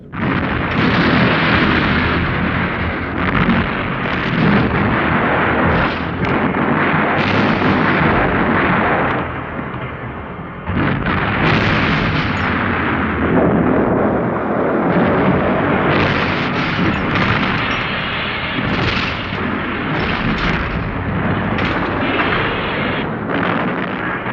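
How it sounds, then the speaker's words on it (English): Naval bombardment of Narvik during World War II, sustained heavy artillery fire with continuous booming and rumbling blasts, loud and dense throughout with a short lull midway, no speech. "The Navy bombarded Narvik, and German destroyers already there took a battering."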